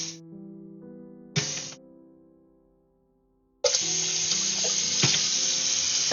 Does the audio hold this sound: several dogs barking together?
no